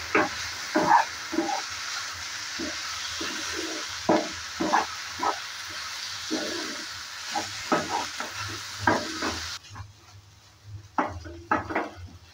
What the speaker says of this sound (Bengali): তেলটা দেওয়ার পর আবারও ভালো করে একটু নেড়ে চেড়ে নিচ্ছি।